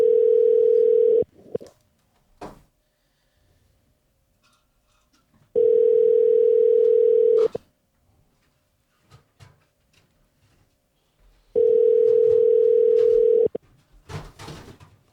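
A telephone ringback tone while calling someone repeats in long steady beeps about four seconds apart, loud and clear, with faint clicks and shuffling in the gaps.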